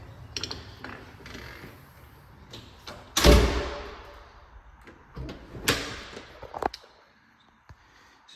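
A house's front door opens with a sharp clunk from the latch, then a second knock-like bang a couple of seconds later, with soft handling noises in between and no talk.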